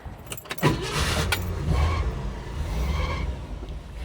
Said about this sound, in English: Cool car. Let's drive it.